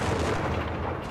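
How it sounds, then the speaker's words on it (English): Dense, continuous mortar and artillery fire rumbles through a Company of Heroes 3 match, several mortars pounding at once as a steady low roar with no separate clear blasts, loud and filling the whole stretch. "He's just spamming mortars, holy shit, he's got 5-6 mortars right here"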